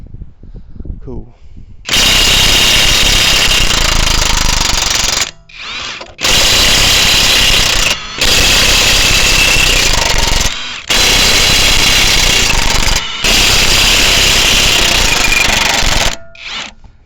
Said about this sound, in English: Sounds like my impact's dying. It's on 2 bars.